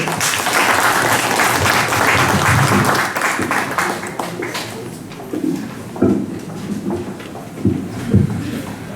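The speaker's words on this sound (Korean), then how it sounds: "뜨거운 박수로 맞이해 주십시오." An audience at a Korean folk-tale reading performance applauds loudly to welcome the performers, a dense wash of clapping that holds for about three seconds, then thins and fades into scattered claps and light stage shuffling.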